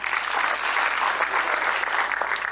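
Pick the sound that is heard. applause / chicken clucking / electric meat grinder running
applause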